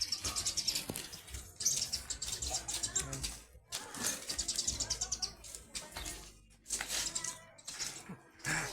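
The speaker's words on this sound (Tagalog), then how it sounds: "Ang daming ibon oh." Lots of birds chirp and tweet in quick, overlapping bursts, fairly close, with soft murmuring in the background.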